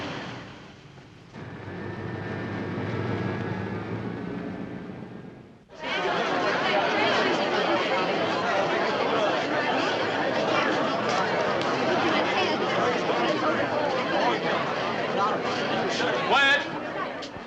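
A busy newsroom crowd chatters: a softer murmur of voices at first, a brief dip, then a dense, loud wall of overlapping talk that carries on steadily to the end.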